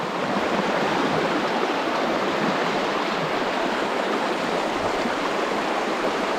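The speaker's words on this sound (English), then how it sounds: "I'm going to turn the camera around so you can just see how quickly that water's flowing." Fast-flowing river water in the Tarkine wilderness rushes in a constant, dense, loud roar that fills the whole clip, close by and with no voices.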